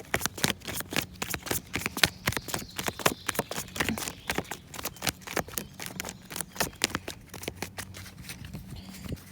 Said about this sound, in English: I am going to shuffle tarot on camera